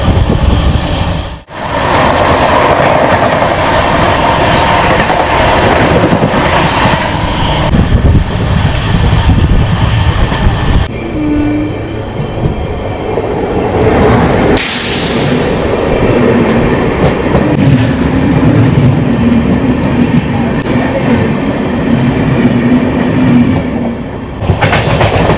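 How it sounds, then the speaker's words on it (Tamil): A Saptagiri Express LHB train running on rails between Chennai and Tirupati gives a loud, steady rumble with clickety-clack wheel rhythm and a brief hiss and squeal partway through, continuing throughout with no talk. "இது வந்து சூப்பர் ஃபாஸ்ட் கிடையாது, நார்மல் எக்ஸ்பிரஸ் வண்டி தான்"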